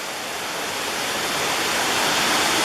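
A waterfall at Ohiopyle roars as a steady, loud, dense wash of rushing water that fills the whole stretch without a break, with no voices over it.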